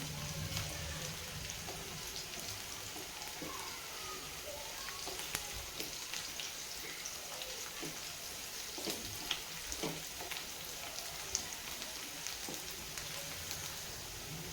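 Chili and onion fry in oil as they are gently stirred, giving a continuous fine crackling sizzle like light rain with occasional soft taps, steady and moderately quiet with no voices.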